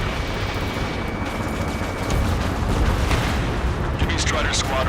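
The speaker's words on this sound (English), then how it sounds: "Gunfire and the roar of jets echoing through the streets." A heavy continuous roar with rumbling bursts of gunfire and booming blasts in Ace Combat 7: Skies Unknown, dense and loud throughout like combat with jets overhead.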